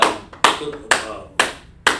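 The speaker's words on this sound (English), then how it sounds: "Let's clap it up for him" A class claps for a student in a few sharp, evenly spaced bursts, roughly one every half second, close and loud, with a faint voice between them.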